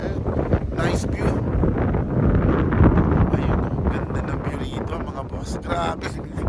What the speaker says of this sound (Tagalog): Kasi lakas ng hangin talaga